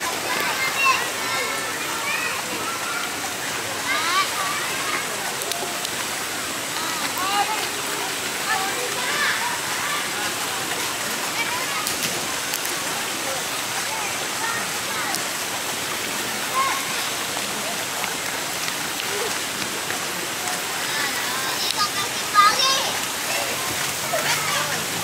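River water rushes and splashes steadily throughout a family bathing outing, a constant broadband wash with occasional louder splashes, while children's voices come and go underneath.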